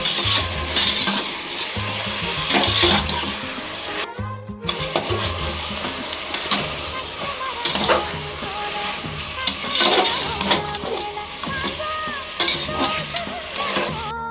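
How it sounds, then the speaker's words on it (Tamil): Mutton pieces frying in hot oil for a Tamil mutton gravy, a steady close sizzle with occasional stirring clinks and scrapes, no talking. "ஆயிலில் நல்லா ஃப்ரை பண்ணிங்கன்னா மட்டனோட ஸ்மெல்லாம் போய் நல்லா குக் ஆகிறதுக்கு ஈஸியாக இருக்கும்."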